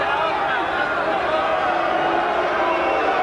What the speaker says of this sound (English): In addition to the booing from the crowd.